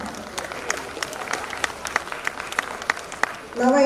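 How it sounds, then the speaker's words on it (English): An audience at a university golden jubilee celebration applauds a volunteer, a steady crowd clapping with sharp individual claps standing out, ending as a voice begins to speak. "Let us give big applause."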